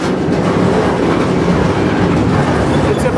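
A freight train rolls on its tracks while coming into St. Louis. The rumble is loud and steady and close, with a faint clickety-clack rhythm and no pauses across the span.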